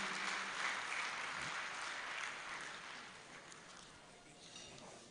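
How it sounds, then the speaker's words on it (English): Audience applause at a graduation ceremony for health fellows in Plateau State, Nigeria: a steady, broad wash of clapping from a crowd, holding fairly even and easing slightly toward the end. "Once again, a round of applause for Her Excellency"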